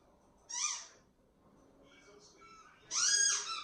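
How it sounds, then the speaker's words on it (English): A child plays with a squeaker toy indoors, giving two loud, shrill squeaks about two seconds apart, the second longer, with faint quieter squeaking between them and no talk. "my son's playing with a freaking squeaker"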